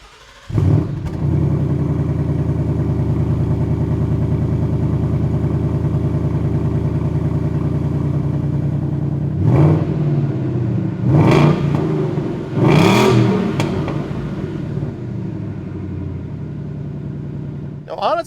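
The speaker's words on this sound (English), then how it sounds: "we'll start by giving you some sound clips of the factory exhaust" Factory exhaust on a 2015-2023 Ford Mustang GT: a loud, steady V8 idle burble, then three sharp revs that rise and fall back to idle, close by.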